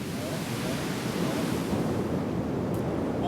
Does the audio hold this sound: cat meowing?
no